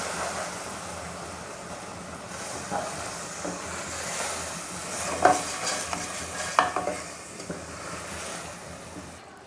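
Vermicelli being stirred into sugar syrup in a pan for kimami sewaiyan, a soft wet stirring and bubbling hiss with a few louder scraping scoops toward the middle.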